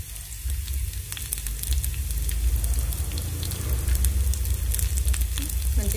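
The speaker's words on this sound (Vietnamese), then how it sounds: "mình khử cho cái tiêu này nó thơm đó các bạn" Green peppercorns sizzle as they sauté in a pan, infusing oil for a vegetarian braised wheat gluten dish; a steady, close, continuous crackling hiss with a low rumble underneath, no talking.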